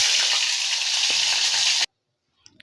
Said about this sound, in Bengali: আমি একটা তেজপাতা দুই টুকরো করে আর একটা শুকনো লঙ্কা দিয়ে দিচ্ছি